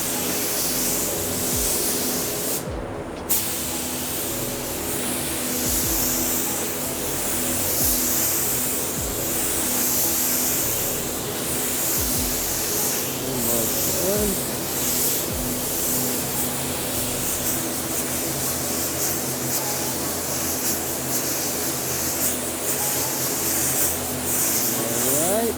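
A Fujispray V8 spray gun applies base coat with a continuous loud, hissing spray and a steady turbine drone, going on without a break apart from one brief dropout early on.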